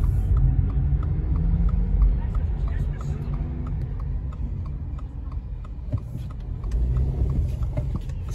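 Car driving through town streets in Big Bear, California, ahead of a winter storm, with a steady low road rumble and engine drone and faint regular ticking like a turn signal.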